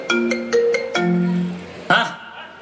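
A mobile phone ringtone during a college departmental stage drama. A loud, clear electronic melody plays a few quick tonal notes and then a longer held tone before cutting off, with a brief sound at the end.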